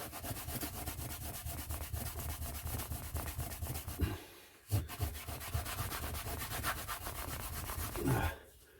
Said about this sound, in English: you do need to push quite hard, but you do see results quite quickly because it does polish. This is quite abrasive